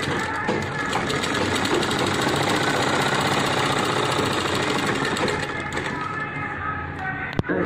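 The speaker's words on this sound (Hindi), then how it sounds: "पहले किनारी सिलाई मार करके इसको पहले जोड़ लेंगे" A sewing machine stitches the edge of a jeans pant hem, running in one continuous fast mechanical whir that slows near the end, with a voice talking over it.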